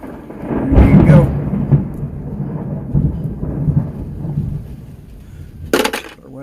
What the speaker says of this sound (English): if y'all can hear me over top of this thunderstorm